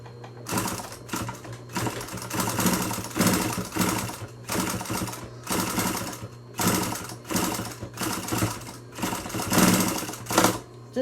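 Fabric mask pieces being stitched on a sewing machine, running in steady bursts of rapid stitching with brief pauses between runs, close and fairly loud throughout.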